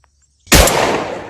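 A single loud blast from a 1953 Browning A-5 shotgun cracks out after near silence, then booms and rings away over about a second.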